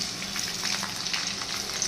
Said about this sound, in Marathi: आता आपलं तेल तापलेलं आहे, आपण लसूण टाकून घेऊया